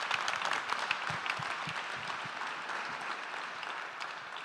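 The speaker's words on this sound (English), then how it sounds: "I think that deserves a big round of applause" A crowd claps steadily, a dense burst of applause that holds for several seconds, with a few louder claps standing out near the start.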